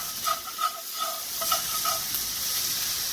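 Leftover pasta fries in a pan with a soft, steady sizzle and hiss, broken by a few light stirring scrapes near the start; quiet and close with no talking.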